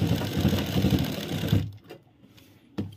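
A sewing machine stitches a trouser pocket in a close, rapid mechanical whirr that lasts about a second and a half, then stops, followed by a quiet pause and a single sharp knock.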